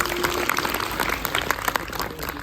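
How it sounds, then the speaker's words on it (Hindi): An audience claps together at a Hindu religious discourse on cows, making a dense, continuous patter of applause that stays fairly even and then eases slightly toward the end. "ताली बजाओ एकदम से।"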